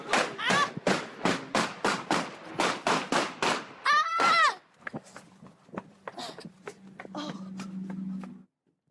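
Gunshots in a real shooting streamed live from a car with a woman and two passengers: a rapid burst of about a dozen sharp, loud bangs, then shouting and screaming, followed by a quieter stretch with a steady low hum.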